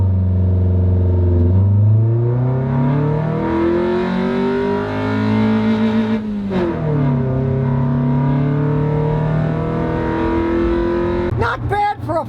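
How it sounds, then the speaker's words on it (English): An old, high-mileage $400 car accelerates hard from a standing start, its engine note rising steadily through the gears, loud and close from inside the cabin, with a brief shift dip and a clunk near the end. "Listen to it go. All those miles, it's still got guts in it. Here it goes from a standing start."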